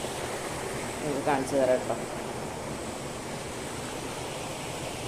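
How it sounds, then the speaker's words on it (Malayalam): A small stream flows past the front of a house, making a steady, even rush of water throughout. A voice speaks briefly near the start. "ഈ വെള്ളം ഒഴുകി പോകുന്നതിൻ്റെ ശബ്ദ കളകളാരവം"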